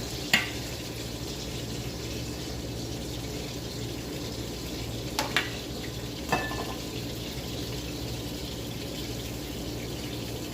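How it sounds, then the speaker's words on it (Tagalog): Dawoud basha meatballs sizzle steadily in a pan as they brown, a continuous broadband frying hiss broken by a few sharp clicks and pops, with no talk. "Iprito ko lang siya hanggang sa maging brown siya ng konti."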